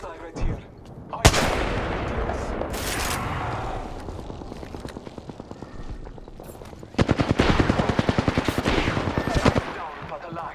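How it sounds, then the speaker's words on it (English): Heavy automatic gunfire and explosive shots in an Apex Legends match, with rapid bursts and booming impacts repeating up close throughout, under faint in-game voice chatter. "I'm taking fire."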